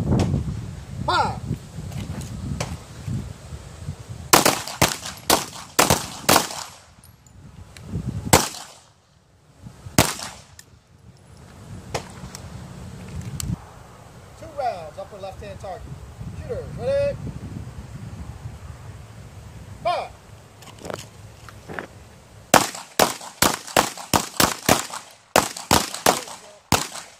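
Pistol gunshots at an outdoor shooting range, sharp cracks in quick pairs and longer rapid strings, with wind noise and a range officer giving commands between volleys.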